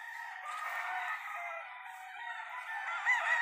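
Chicks and chickens on a small farm make a continuous, fairly loud chorus of high-pitched peeping and calling, steady throughout with a slightly sharper call near the end.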